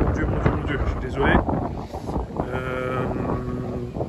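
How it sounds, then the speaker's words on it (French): Wind buffets a microphone outdoors at a university campus in Chicoutimi, Canada, with heavy, uneven low rumbling gusts throughout while a person talks over it. "Désolé s'il y a du vent"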